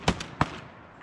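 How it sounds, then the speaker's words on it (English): Several shotguns fire at mallards on big public water, two loud sharp blasts close together in the first half second, the first with a quick echoing follow-up, then fading to quiet ambience. "I think all four of us shot at the same time almost."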